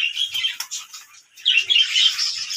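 Many pigeons feeding in their coop make busy, high, scratchy chirps and light rustles that come in close, irregular bursts, with no one talking.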